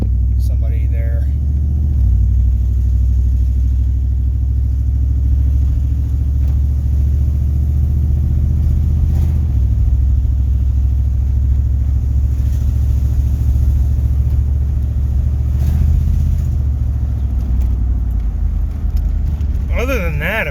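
A Chevrolet Suburban, in need of an alignment and with play in its steering, drives along with a steady low engine and road rumble filling the cabin while someone talks over it.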